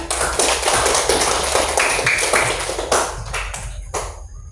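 A hand knocks or taps on a hard surface in a classroom, a quick series of close, sharp raps repeated steadily for several seconds with no voices.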